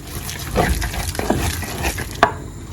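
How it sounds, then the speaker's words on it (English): Water and stock from fermented fish are poured into a blender for a vegetable dip, making a steady close splashing, gurgling pour with a small knock near the end. "I'll add the water, the stock from the fermented fish, and blend everything together"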